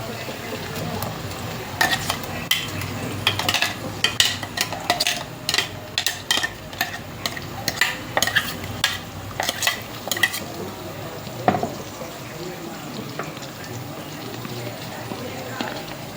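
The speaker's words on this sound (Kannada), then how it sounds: "ಸ್ಮೆಲ್ ಹೋಗೋ ತನಕ ಅಷ್ಟು ಫ್ರೈ ಮಾಡಬೇಕು ಅದಾದ್ಮೇಲೆ ನಾವೇನು ಮಿಕ್ಸಿ ಮಾಡ್ಕೊಂಡಿವಲ್ಲ ಅದು ಉಳ್ಳಾಗಡ್ಡಿ ಟಮಾಟ ಮತ್ತು ಗರಂ ಮಸಾಲ ಹಾಕಿ ಪೇಸ್ಟ್ ಅದು ಹಾಕ್ರಿ" A paste of ground onion, tomato and garam masala fries in oil for a North Karnataka-style home dinner, with soft sizzling under repeated spoon scrapes and pan clatter while someone talks over it.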